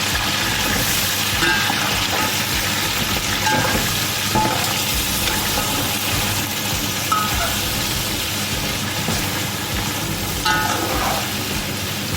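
Beef pieces hitting hot oil with browned onions in a pot, a loud dense sizzle with stirring scrapes and a few clatters, steady for the whole stretch.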